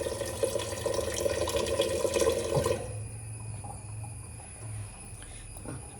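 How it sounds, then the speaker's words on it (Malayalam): Water poured into a cooking pot in a home kitchen, a splashing, gurgling fill for the first few seconds that then stops, leaving quiet background hum and a faint insect-like chirp. "ഇനി നമുക്ക് വെള്ളം ഒഴിക്കണം"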